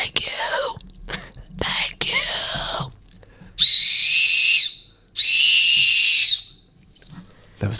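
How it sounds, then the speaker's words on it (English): A person whistles two long, steady high notes, one after the other, preceded by a few breathy, airy bursts and short pauses. "That was a whistle."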